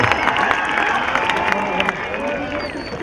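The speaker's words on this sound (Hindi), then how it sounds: "एक बार जोरदार तालियां उस्मान पटेल के लिए।" A crowd at a local cricket tournament match cheers and applauds a batsman after his half-century, a busy mix of clapping and shouting voices with talk running over it.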